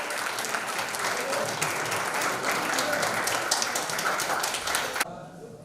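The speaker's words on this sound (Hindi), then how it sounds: "जोरदार तालियां होनी चाहिए नवल श्रीवास्तव के लिए" Sustained applause from an audience at a one-day leadership program event in Rampur, a dense steady patter of clapping that fills the space and stops abruptly near the end.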